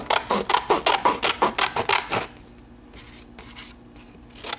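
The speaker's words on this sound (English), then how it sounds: "and I like to cut my images out before I punch them." Scissors cut out stamped paper images for a scrapbooking flower project, with a quick, regular series of close snips followed by a few softer, scattered cuts.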